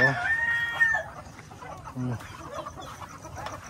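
Chickens cluck and squawk nearby on a rural farm in Guimba, Nueva Ecija, Philippines, with a brief crow-like call at the start and a voice speaking faintly among the birds.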